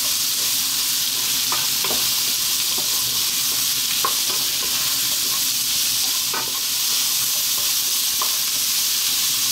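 Vegetables seasoned with soy sauce and black pepper stir-fry over high heat in a pan, a steady loud sizzle with scattered clinks and scrapes of stirring throughout.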